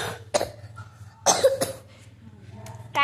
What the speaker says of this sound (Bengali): কাশিটা হয়েছে